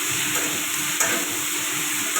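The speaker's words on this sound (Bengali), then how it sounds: "এদিকে আলু ভাজা করে নিচ্ছি" Diced potato cubes frying in hot oil make a steady close sizzle and hiss with no break, one small bump at the midpoint and no voices.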